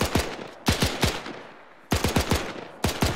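Automatic gunfire in a World War II shooter game: several rapid bursts of sharp shots with short pauses between them, fairly close and punchy, with no talking.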